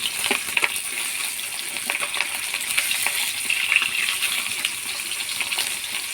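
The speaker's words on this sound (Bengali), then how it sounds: "আর মাছগুলো, কাতলা মাছগুলো কেমন ফুলেছে দেখুন। এইভাবে এই মাছগুলোও ভেজে নেব।" Catla fish pieces frying in hot oil in a pan, with a continuous close crackling sizzle and small pops that stay steady throughout, no voices over it.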